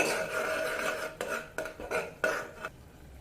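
A metal spoon scrapes and clatters against a pan while ground masala paste is sautéed for a peas and potato kurma, a few short uneven strokes heard close up and fairly quiet with no talking.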